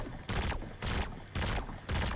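A pulse rifle in Destiny 2 fires four evenly spaced loud bursts, each a rapid cluster of shots with a short pause between, close and dominant with no talking.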